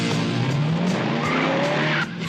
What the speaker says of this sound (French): La voiture rouge a démarré juste derrière nous.